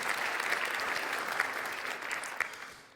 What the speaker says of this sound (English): we can applaud the students